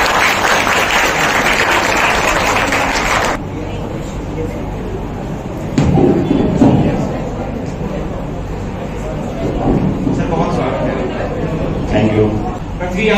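An audience at an Earth Day summit in Meerut breaks into loud, sustained applause to welcome a forest officer, with a dense wash of clapping that eases after a few seconds and continues under a voice on the public address.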